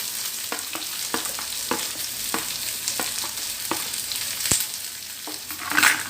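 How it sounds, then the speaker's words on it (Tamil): Curry leaves, green chilies and onions sauté in hot oil in a pan for paniyaram batter, a steady close sizzle broken by repeated light scrapes and clicks of a spoon stirring, with no talking. "நல்லா வதக்கி விட்டுக்கலாம். வெங்காயம் நல்லா வதங்கணும்."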